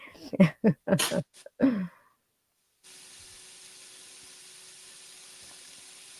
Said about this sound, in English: Yeah, so I can hear it sizzling now.